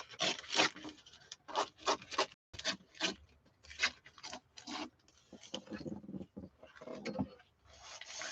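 Paper trimmed for a lapbook cover, a series of close, crisp scissor cuts in irregular bursts with short pauses between them.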